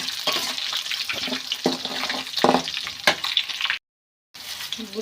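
Long-cut green chillies fry in a pan with a steady, close crackling sizzle and occasional scraping stirs, broken by a brief silent gap near the end before the frying resumes; no one speaks.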